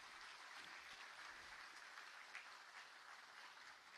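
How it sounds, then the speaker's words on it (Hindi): Steady crowd applause fills the hall at a formal ceremony welcoming the chief minister with a bouquet, a dense even patter of many hands clapping without a break, moderately distant. "तालियां बजती रहनी चाहिए।"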